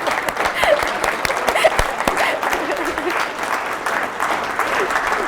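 An audience at a university entrepreneurship speaker series claps in sustained, crisp applause with sharp individual claps, fairly loud and close, holding steady for several seconds.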